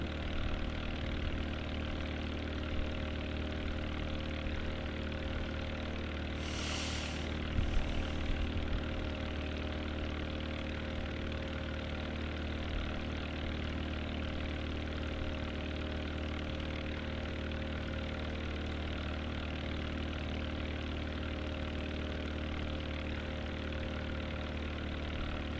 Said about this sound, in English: Every time I start down, the engine throttles off, and this engine catches up too slow for that.